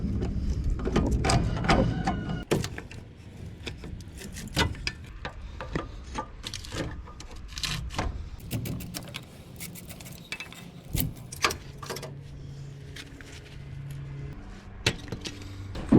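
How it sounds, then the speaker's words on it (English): An old-school SK hand ratchet with a T45 Torx bit works the caliper bolts on a Dodge Cummins truck during a brake conversion, giving close, irregular metallic clicks and clanks over a steady workshop background. "I like using my down and dirty old school SK ratchet."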